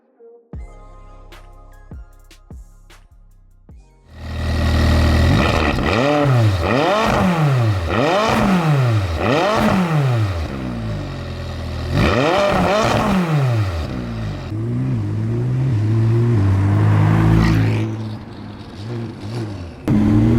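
A McLaren 570S with a 7-speed dual-clutch gearbox revs hard and shifts quickly through several gears, each rising sweep cut off by a fast upshift. The engine is loud and close after a quieter opening few seconds.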